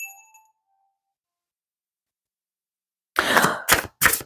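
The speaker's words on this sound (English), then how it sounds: "So let me ring this bell." A small hand bell rings with a pure tone that fades within half a second into silence, followed a few seconds later by three loud, harsh bursts like coughs.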